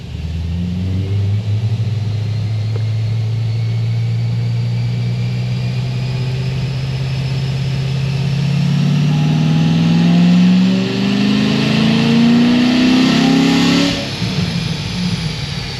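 A C6 Corvette ZR1, warmed up, idles with a deep, steady burble, then revs up in a rising, loud roar that peaks and falls back.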